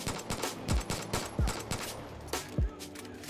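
Repeated gunshots and booming explosions in a video game played on an Acer Nitro 5 laptop with an i5-7300, rapid bursts punctuated by deep thumps, fairly quiet overall.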